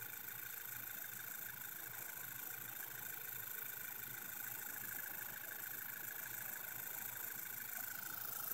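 Idle of a 2013 Volkswagen CC engine after a cold-start misfire, a faint, steady, even hum with a constant tonal whine, heard from some distance with no other sounds.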